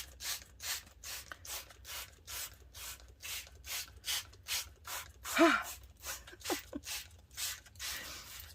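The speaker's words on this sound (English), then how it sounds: "So let's spritz that as well." A spray bottle spritzes water onto fabric while it is dyed with distress oxide inks, giving a quiet series of about fifteen short hissing bursts in a steady rhythm, with a faint breath between some of them.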